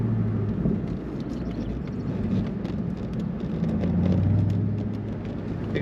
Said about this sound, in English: Exhaust sounds very nice.